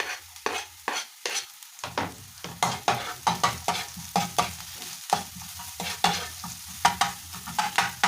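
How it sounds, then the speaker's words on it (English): Garlic frying in a pan for shakshuka, stirred with quick, regular spatula strokes that scrape rhythmically over a light sizzle, close and fairly loud throughout. "So now we're gonna put our garlic."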